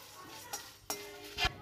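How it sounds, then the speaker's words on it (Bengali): Cumin, coriander, bay leaf and dried chilli are dry roasted in an empty pan, heard as a few faint scrapes and sharp clinks of a utensil against the pan over a quiet background. "তেজপাতা আর শুকনো লঙ্কা ভেজে নিচ্ছি।"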